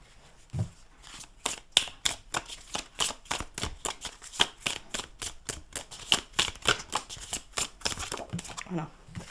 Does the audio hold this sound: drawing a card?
yes